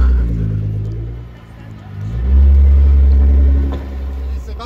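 A Nissan GT-R tuned to 650 hp accelerates, its engine rising from a deep rumble into a loud, sustained roar heard from close by, as if from inside the car.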